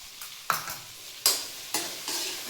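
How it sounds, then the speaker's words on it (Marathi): Okra with salt and coriander leaves is stir-fried in a hot pan, the spatula's scraping strokes landing in about four distinct bursts over a steady low sizzle, with no one talking. "असं परतून घ्यायची भेंडी."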